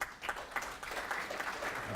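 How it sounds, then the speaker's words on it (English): An audience in a hall claps for a group of young men, a brief, steady patter of many hands at moderate loudness. "shall we give the young men another clap?"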